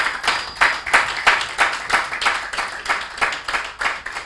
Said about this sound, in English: Please, can you give yourselves a round of applause?